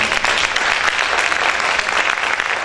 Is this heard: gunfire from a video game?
no